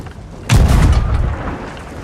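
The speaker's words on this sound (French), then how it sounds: "je vais vous faire tester un peu un canon" A ship's cannon fires once in Sea of Thieves, a sudden heavy boom followed by a rumbling tail that slowly fades.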